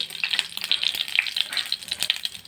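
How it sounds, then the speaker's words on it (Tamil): Mustard seeds tempering in hot oil in a kadai, a dense, continuous crackle of sharp pops and spits close up, with no voices. "இதில் கடுகு போட்டு தாளிச்சுக்கோங்க"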